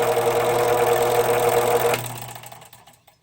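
A rewired Harbor Freight belt sander runs with a loud, steady mechanical whir and rhythmic rattle, then is switched off and spins down to silence over about a second, heard up close with no talking.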